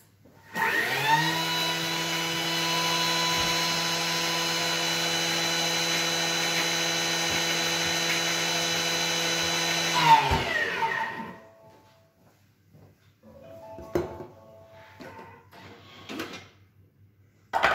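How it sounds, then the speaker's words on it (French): A food processor whirs at top speed for about ten seconds, blending sugar with Madagascar vanilla into powdered sugar, a loud steady motor drone that stops abruptly, followed by a few clinks and handling noises. "Et vous mixez 10 secondes à vitesse 10."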